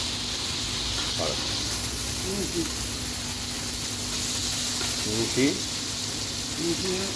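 Chopped green chillies sizzle in a hot pan, a steady frying hiss running throughout while someone talks over it.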